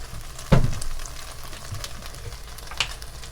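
Olive oil sizzles and spits in a hot pan while cooking beef pepper steak, a steady frying hiss with a sharp clatter near the start and a brief pop later, no voices.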